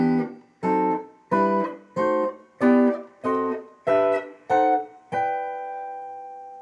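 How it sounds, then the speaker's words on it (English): Guitar strikes a steady series of nine Barry Harris scale chords, one after another in even rhythm, the last left ringing clearly. "Barry Harris scale when breaking down this would sound like this"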